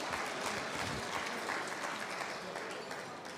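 Guests at a gala dinner clap for a charity, a thick, even round of applause filling the room, holding steady before easing slightly toward the end.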